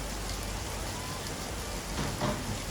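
Steady rain falls outside a small rented place in Spain, a dense, even hiss of drops on surfaces that holds at a moderate level throughout with no voices.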